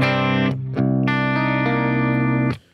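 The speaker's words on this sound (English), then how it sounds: "you can use the compressor to back down on the level, and I just have a little bit of sustain" Compressed clean electric guitar with a little sustain and look-ahead compression, chords ringing evenly at steady level with short breaks between strums before a quick fade.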